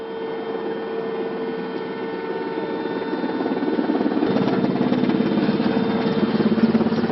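Engines of M1A2 Abrams tanks and Bradley fighting vehicles out in the field during gunnery training, a steady droning hum with a low mechanical rumble that builds slightly louder partway through, with no talking.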